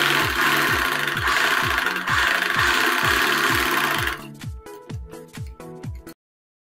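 A sewing machine runs stitching over a blouse lining, a loud steady mechanical chatter with a regular rhythmic thump that breaks into short stop-start bursts before stopping.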